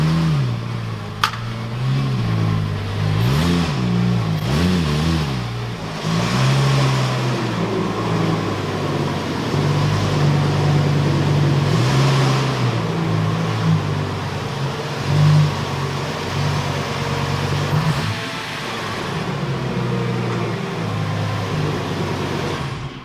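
A Lamborghini Gallardo LP520 engine idles nearby and is revved several times, its pitch climbing and dropping with each blip of the throttle.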